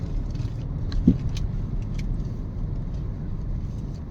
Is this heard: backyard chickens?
no